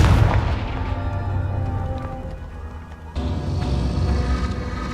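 A deep, rumbling blast from the Confringo spell in Hogwarts Legacy rolls on with a sustained low roar, then a second surge of heavy booming swells up loud and close, with no talking over it.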